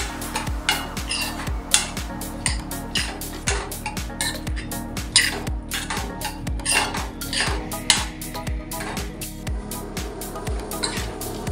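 A spoon scrapes and clinks repeatedly against a pot while prawn rice masala (kolambi bhat) is stirred, a busy irregular rhythm of metallic knocks throughout with a low steady hum underneath.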